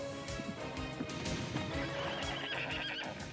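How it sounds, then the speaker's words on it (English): Horses at an ancient Persian royal messenger relay station whinny loudly and repeatedly, while hooves clip-clop steadily underneath in a busy, continuous scene with no talking. "These messengers would change their horses at each station"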